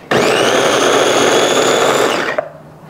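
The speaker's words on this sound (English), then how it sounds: "This isn't really a big blender." A small blender chops onion for birria, its motor whirring loudly and steadily for over two seconds before cutting off abruptly, followed by a brief clunk.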